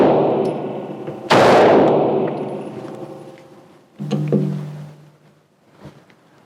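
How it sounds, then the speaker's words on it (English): A single loud handgun shot at a shooting range cracks sharply and rings out with a long decaying echo, followed by a fainter second report and a few quieter clanks. "we're going to go to the range and we're going to shoot a gun"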